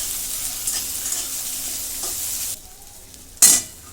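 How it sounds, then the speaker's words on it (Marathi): Four medium-sized onions roast in a pan for a spiced curry paste, producing a bright hissing sizzle with faint stirring scrapes, then a sudden loud clatter of a utensil near the end, close up and without talk. "हे चार मोठे कांदे आहेत मध्यम आकाराचे आता हे पण भाजून घेते"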